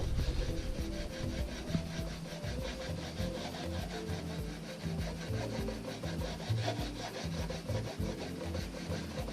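Piece of wood rubbed back and forth over longbow wood to compress the fibres, a quiet rhythmic scraping rasp repeated steadily at close range, with no talk.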